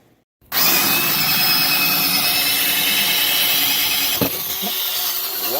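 A grinder cutting and sanding the gel coat of an inflatable boat during restoration; after a brief quiet moment the tool starts abruptly into a loud, sustained whine, with a scraping catch near the end.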